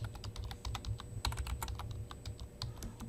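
Fast, uneven typing on a computer keyboard while an issue is entered, close and quiet, with no voices.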